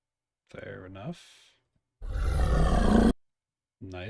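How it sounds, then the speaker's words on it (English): Animal roar samples from a crypto zoo game play back in short bursts: a growling, voice-like roar, a brief breathy burst, then a long loud roaring blast, clear and up close. "Nice, we got some real roars here."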